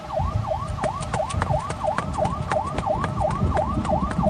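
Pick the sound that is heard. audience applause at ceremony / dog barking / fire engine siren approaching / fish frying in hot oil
fire engine siren approaching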